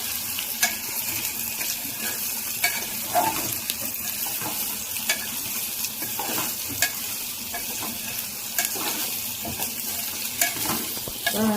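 Gokarikaya curry being stirred in a pan, a steady low sizzle of frying broken by repeated scraping strokes of the spoon, close and continuous with no one talking.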